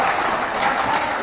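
Spectators applaud and cheer after a shot at an Azerbaijani amateur league football match between Cənub FK and Armada in Lənkəran: a steady, dense wash of clapping and crowd noise fills the whole moment.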